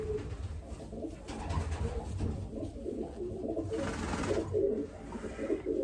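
A racing pigeon in its loft gives soft, low cooing that recurs through the whole stretch, fairly close and steady, with no talk over it.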